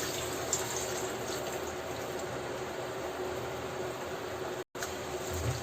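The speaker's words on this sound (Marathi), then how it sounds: "त्याच्यानंतर याला धुवून टाकायचं आहे छान 2-3 पाण्याने." Rice being rinsed in water in a home kitchen while preparing spicy pulao, a steady, close splashing and running-water wash that continues with a brief cut near the end.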